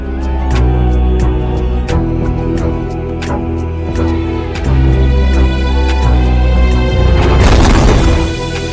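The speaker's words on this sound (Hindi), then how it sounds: "स्टाइल मारते हुए जोरदार धमाका करते हैं" In an animated scene, a big explosion follows a stunt bike jump: a loud, dense burst and crash near the end, preceded by repeated heavy hits over booming music.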